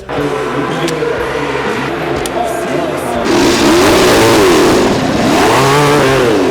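A Honda RC30 racing motorcycle on track, its engine droning under someone speaking, then swelling louder with rising and falling revs as machines pass nearby.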